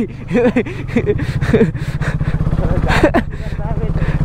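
A motorcycle carries a rider and a pillion passenger on an evening ride, its engine holding a steady, close, throbbing drone throughout while people talk over it.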